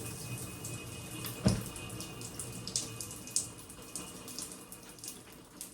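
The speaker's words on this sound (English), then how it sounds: "There we go, got a bit of water coming through now." Water trickles and splashes through a newly fitted pipe fitting, a steady faint running sound with a sharp knock partway through and small drips and clinks scattered across the few seconds, no voices.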